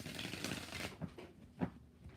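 Tarot cards shuffled by hand, a brief, faint riffle of papery flutter followed by a few soft taps as the deck settles, close and quiet.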